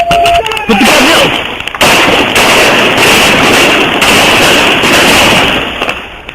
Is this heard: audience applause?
no